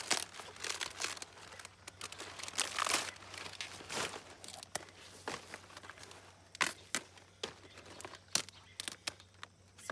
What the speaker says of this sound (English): I'm going to pull all of these outer leaves off